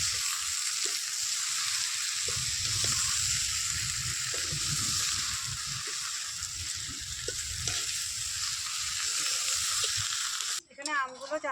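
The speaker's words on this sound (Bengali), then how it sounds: "এখানে আমগুলো জ্বালানি হচ্ছে।" Mangoes cook with sugar in a pan for a village-style pickle, giving a loud, steady sizzle and bubbling hiss throughout, with a short voice breaking in right at the end.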